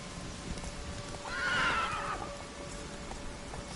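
Roach, the horse in The Witcher 3, lets out one clear rising whinny mid-gallop, set against a steady patter of hoofbeats in a game environment.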